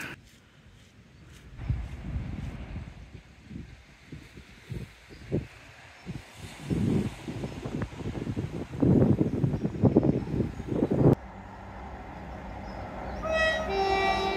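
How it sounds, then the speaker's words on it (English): A train passes at Teignmouth on the Devon coast, building from a low rumble to a loud rush of clattering wagons that cuts off abruptly, followed by a brief high horn-like tone. "That's a nice happy train."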